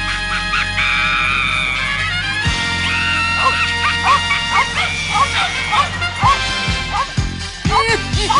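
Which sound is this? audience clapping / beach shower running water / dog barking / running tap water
dog barking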